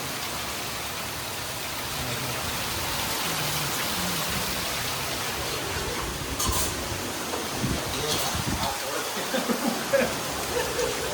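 Heavy rain pours down in a dense, steady hiss, with a few louder splashes and patters toward the end.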